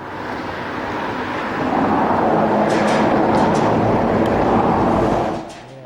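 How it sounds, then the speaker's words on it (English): A train rumbles steadily across the lower deck of a river bridge at night, a broad continuous roar that swells midway and holds before easing off near the end, with no voices. "if you see the train there on the lower level"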